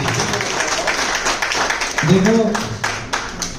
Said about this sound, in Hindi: मनोज जी के लिए ताली पहले ही बजाएंगे